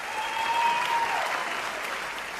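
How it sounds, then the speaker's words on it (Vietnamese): A television studio audience applauds two contestants on a talent show, a close, continuous burst of clapping with faint tonal music lingering underneath and no talking. "Một tràng pháo tay dành cho Tấn Đạt và Hà My"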